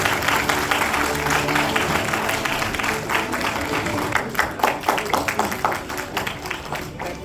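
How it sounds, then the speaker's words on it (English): An audience at a school event applauds with a dense wash of clapping that keeps going, and voices mix into it. "Please give him a round of applause."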